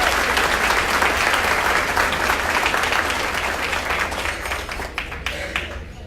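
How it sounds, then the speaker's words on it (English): Audience applause at the Hispanic Pioneers Breakfast fills the room with steady, dense clapping from a large crowd that holds loud throughout and tapers only slightly near the end. "Let's give them one more round of applause"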